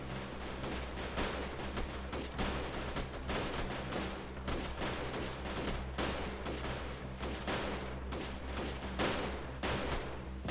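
Airstrike explosions in the Freeman Guerrilla Warfare video game, a dense, continuous barrage of rapid blasts and crackling fire rolling on without pause, loud and full with no talking.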